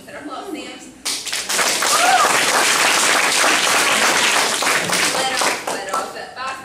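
Loud, sustained applause from a theatre-evening audience breaks out suddenly after a brief spoken introduction. Dense clapping fills the room for several seconds before slowly thinning.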